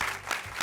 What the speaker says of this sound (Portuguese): Ó, galera aplaudindo